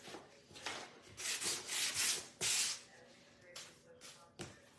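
Sandpaper rubbed back and forth over the wood of a spindle house kit, a series of close, loud rasping strokes in an irregular rhythm, trailing off into a few lighter passes.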